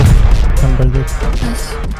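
Rocket launcher explosions in the Rust video game, heavy booms thudding loudly at the start and fading into scattered blasts, with voices talking over them.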